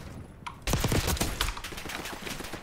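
A newly picked-up gun fires in a Call of Duty: Black Ops 6 online hardpoint match, a quick string of loud shots following a brief click and faint tone.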